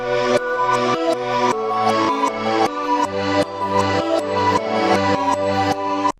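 A short melody, split into chunks that are each reversed, plays in uneven segments of choppy, abruptly cut notes, each chunk starting suddenly, sounding disjointed and out of order.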